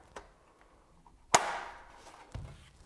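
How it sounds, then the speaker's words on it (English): An IKEA kitchen drawer's side rails snap into place with one sharp, loud click, framed by quieter handling knocks before and after. "And everything just snaps together."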